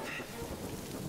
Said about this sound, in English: Unless fucking rain comes along.